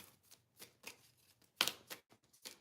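A deck of cards being shuffled, with a series of crisp riffling bursts and soft flicks, close up and fairly quiet, no voices.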